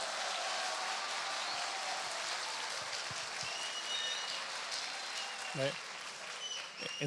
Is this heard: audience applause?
yes